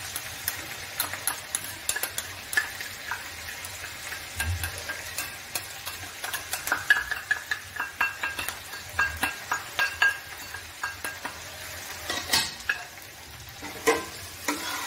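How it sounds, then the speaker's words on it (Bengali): Prawns are stirred in a pan with salt, turmeric, cumin and Kashmiri chili powder. A soft oily sizzle runs underneath, broken by repeated scraping strokes and light clinks of the utensil against the pan, with no talking. "এবার একটু হালকা মিক্স করে আমি দিয়ে দেব সব স্পাইসেসগুলো, নুন হলুদ জিরা পাউডার কাশ্মীরি লঙ্কা পাউডার"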